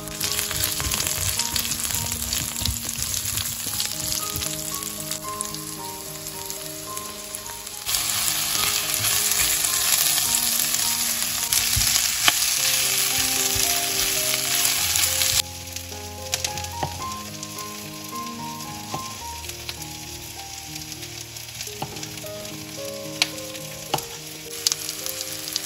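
Ingredients frying with cumin in a pan over medium to low heat for a Nepali momo sauce, a continuous loud sizzle with occasional stirring scrapes, close and steady, with no talking.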